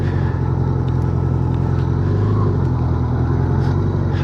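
A 1987 Honda GL1200 Gold Wing motorcycle pulling in to park, heard as a steady low engine rumble at low speed with wind buffeting, loud and close from the rider's position.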